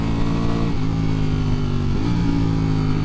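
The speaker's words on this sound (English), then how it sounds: "Absolutely rampant." A 2023 Ducati Streetfighter V4S with a counter-rotating crank revs hard, its close, loud engine note holding a steady drone, dipping at about 0.7 s and climbing again near 2 s, with no voices.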